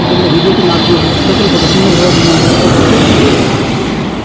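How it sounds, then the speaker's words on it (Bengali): A Biman Bangladesh Airlines Boeing 777 lands at Dhaka airport with a loud, sustained jet roar that holds steady and then eases slightly at the end, with some voices mixed in. "এখন যে বিমানটি লাস্টে নেমে গেল সেটা হচ্ছে বিমান বাংলাদেশ এয়ারলাইন্সের বোয়িং ত্রিপল সেভেনের যে বিমান"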